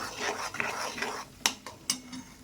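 Masala egg bhurji stirred in a pan over a raised gas flame, a spoon or spatula scraping and clinking against the metal in a loose run of close strokes, with two sharper knocks near the end and no talk.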